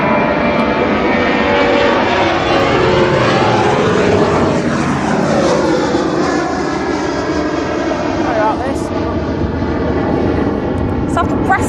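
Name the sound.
Ryanair airplane at East Midlands Airport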